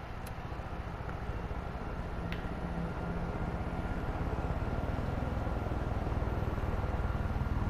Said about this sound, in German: Steigen wir mal in den Heli ein.